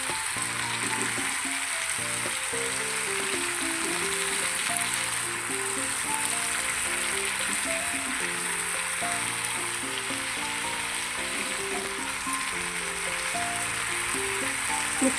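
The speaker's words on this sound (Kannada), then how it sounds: "ನೋಡ್ಬೋದು, ನಿಮಗೆ ನೀಟಾಗಿ ಫ್ರೈ ಕೂಡ ಆಗ್ತಾಯಿದೆ." Marinated gobi (cauliflower) pieces fry in a pan with a steady, even sizzle that carries on unbroken and fairly quietly, with no voices.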